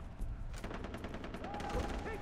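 Gunfire in the Far Cry 3 video game as a sniper rifle shot lands, a loud burst of crackling reports under faint background game noise.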